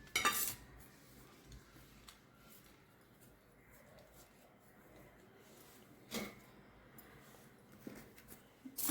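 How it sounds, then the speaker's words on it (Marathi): Green chillies are crushed in a stone mortar with coarse grinding strokes and a few loud stony knocks and scrapes, close by amid quiet background noise. "अशी मिरची वाटली आपण"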